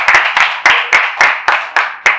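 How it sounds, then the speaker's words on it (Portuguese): Rhythmic clapping after a round at a Brazilian rap battle final, about nine sharp, evenly spaced claps, close and loud, with no talk between them. "palmas pra esse round aí, mano, ajuda a nós"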